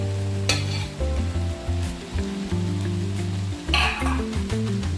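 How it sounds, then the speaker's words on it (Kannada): Beaten egg fries in a pan with onion and green chilli for chicken egg fried rice, a close, steady sizzle broken by stirring and scraping clatter, with no voices. "ಈಗ ಈರುಳ್ಳಿ ಹಸಿಮೆಣಸಿನ್ಕಾಯಿ ಫ್ರೈ ಆಗ್ತಿದ್ರೆ ಇದಕ್ಕೆ ಮೊಟ್ಟೆ ಬೀಟ್ ಮಾಡಿರೋದನ್ನ ಹಾಕ್ಕೊಂಡ್ಬಿಡ್ಬೇಕು."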